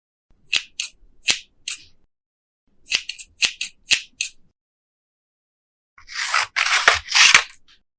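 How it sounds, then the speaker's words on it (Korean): Scissors cutting, with sharp metallic snips in small irregular groups, then a quicker run of longer cutting strokes. Close, crisp and alone. "가위 효과음"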